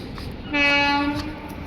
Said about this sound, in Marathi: खाली ट्रेन जाते एक